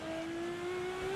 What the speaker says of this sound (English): I think it's meant to be like a naturally aspirated V12 or something.